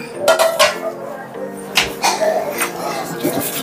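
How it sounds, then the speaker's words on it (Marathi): A pot of water is set down in a home kitchen during dum biryani preparation, with several close, sharp metallic clatters and clinks of cookware, under people talking. "पाण्याचा पातेला ठेव."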